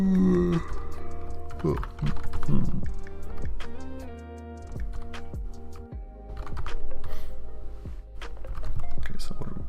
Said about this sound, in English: I guess I'm gonna use my keyboard.